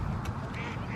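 Ducks on a lake give a brief, close quack amid a steady background murmur, lasting only about a second.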